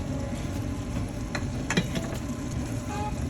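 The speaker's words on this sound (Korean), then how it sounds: "자, 이제 두부 들어갑니다." Tofu goes into a sizzling pan with doenjang sauce for a snail doenjang rice bowl, a steady close frying hiss with a couple of brief scrape and clatter bursts.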